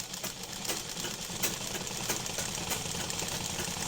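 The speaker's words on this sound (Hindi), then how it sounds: "अब इस तरीके से सीधी सीधी सिलाई लगानी है" A sewing machine runs a straight seam through cloth, its fast, even mechanical chatter steady and fairly faint, heard close with no talk.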